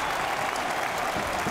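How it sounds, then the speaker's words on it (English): Plymouth Argyle supporters roar and clap in a packed stadium after a goal against Birmingham City, a dense, sustained wash of crowd cheering and applause. "And the Plymouth fans have something to cheer here."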